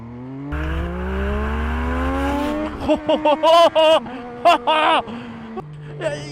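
MV Agusta Dragster 800RR, an 800cc three-cylinder motorcycle, revs up in first gear with rising engine pitch, then loud staccato blips and bursts of acceleration close to the rider.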